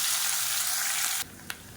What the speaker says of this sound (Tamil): இப்போ இதில் மீடியம் சைஸாக நீளமாக நறுக்கின வெங்காயம் சேர்த்துக்கலாம்